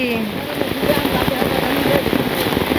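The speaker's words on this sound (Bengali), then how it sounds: "মনে হয় না, যাইব বৃষ্টি" Steady rain falls over a flooded Bangladeshi village in the rainy season. It makes a dense, continuous hiss with a low rumble of wind, and the level stays even throughout.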